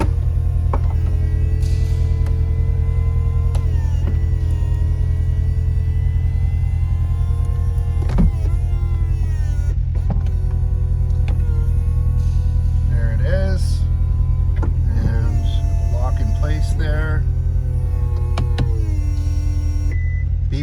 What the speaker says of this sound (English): I'll go ahead and put the top up so we can see the operation